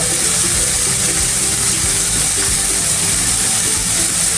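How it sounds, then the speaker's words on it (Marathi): Cold water hits sautéed paneer in a hot pan while making paneer pulao, producing a loud, continuous hissing sizzle with a watery gush that stays dense and even throughout. "आपण पनीर परतून घेतलं की नाही, त्यामध्ये थोडंसं पाणी टाकायचं थंड,"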